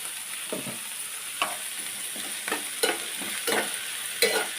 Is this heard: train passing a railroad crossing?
no